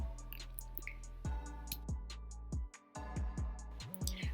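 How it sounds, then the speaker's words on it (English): Liquid drizzles around the base of a glass baking bowl before tilapia goes in, giving a quiet series of irregular drips and taps with short gaps between them. "let it drizzle all around the base of this Paris bowl"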